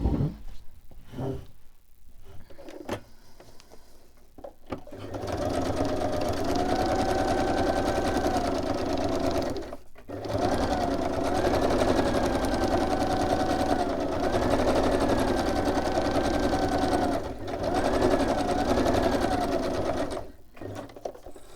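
A sewing machine stitches fabric in long steady runs with a whirring mechanical drone, close and loud. It breaks off into brief pauses and then starts again, with little talk.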